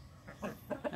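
Farm chickens cluck in short, soft bursts while being fed, a brief and fairly faint few calls from nearby.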